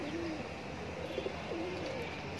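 High flyer pigeons coo softly in a couple of low, drawn-out calls over a steady background hum, faint and moderately near.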